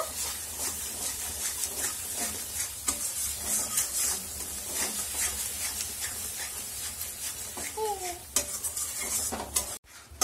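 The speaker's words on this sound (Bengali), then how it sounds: "দিয়ে দেবো হলুদ গুঁড়ো, আর দিয়ে দেবো নুন। দিয়ে 2 মিনিট একটু নাড়িয়ে নেব।" Fish stirred in a pan with turmeric and salt for a Bengali mustard-poppy hilsa dish, with steady scraping and clinking of a utensil against the pan over a soft sizzle, close and continuous.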